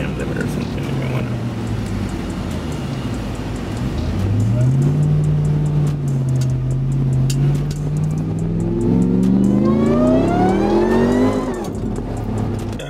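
A 1,350 HP Ram TRX truck engine revs and accelerates loud and close, its pitch climbing steadily through the gears before hitting an RPM limit, with talk underneath.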